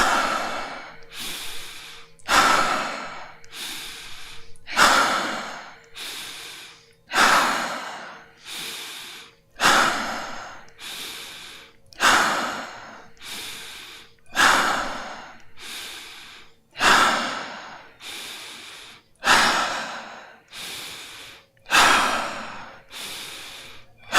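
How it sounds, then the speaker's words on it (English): Deep stomach breathing exercise, with forceful nasal inhales and exhales repeating in a slow, steady rhythm about every two seconds, close and fairly loud, with no talking. "we just start with stomach breathing and slowly increasing the intensity"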